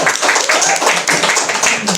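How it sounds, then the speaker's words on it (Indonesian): Audience applause for Tes Cipa at a monthly community health centre workshop: a steady, dense patter of clapping runs through the whole two seconds at moderate loudness, with a faint voice underneath. "tepuk tangan untuk Tes Cipa dong"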